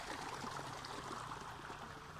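Clear water flowing in a stream at the Dharmarajika Buddhist site in Taxila, a steady, soft outdoor rush and trickle with no break and no talking.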